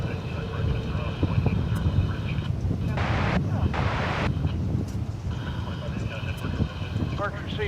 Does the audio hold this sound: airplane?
yes